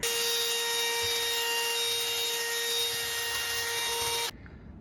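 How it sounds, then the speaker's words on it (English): A wire wheel grinds steadily against a jet ski supercharger in a continuous, loud, high-pitched whine with harsh scraping, then cuts off abruptly near the end, leaving a quieter hum. "I'm gonna go ahead and get a wire wheel and just clean up this Supercharger a bit"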